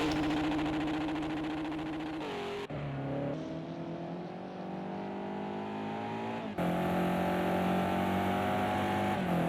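A BMW GT3 race car in a sim racing game howls over the top of Mount Panorama at Bathurst, its engine note steady and loud, shifting in pitch through gear changes with no one talking.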